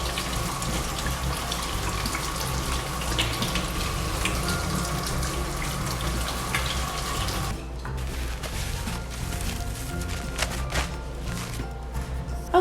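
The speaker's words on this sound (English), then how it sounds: "our first step is washing our hands" Hands being washed under a running kitchen tap give a steady, close hiss of flowing water that stops partway through, leaving quieter room sound with a few faint clatters and no talking.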